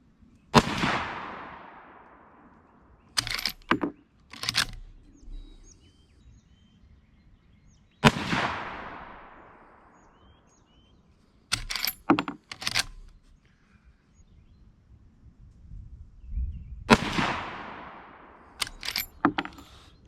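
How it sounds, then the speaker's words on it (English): A Henry .30-30 Winchester lever-action rifle fires three loud shots spaced several seconds apart, each report decaying into a rolling echo, with metallic clacks of the lever cycling between shots. "So there's our 3 shots."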